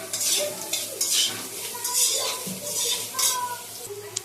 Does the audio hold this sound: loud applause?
no